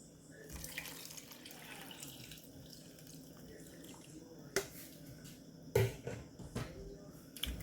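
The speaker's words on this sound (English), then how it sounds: "I'm gonna add 3 cups of water" Three cups of water are poured into a cooking pot for rice: a steady, soft splashing stream at close range, with a few clinks and knocks from the pot.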